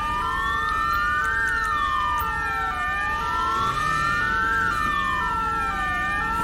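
A wailing police siren in the video game GTA V rises and falls in slow, steady sweeps, loud and close, over a constant engine-like rumble.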